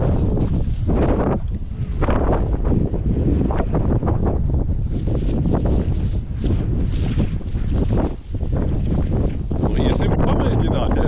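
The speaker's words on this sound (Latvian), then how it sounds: "ir nenormāls vējš" Fierce wind battering the microphone on a rise in remote Georgian countryside near thermal pools, a loud, continuous roaring buffet with gusty surges, and voices faintly present beneath the rumble.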